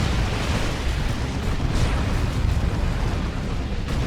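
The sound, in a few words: rocket run explosions in video game Dawn of War 2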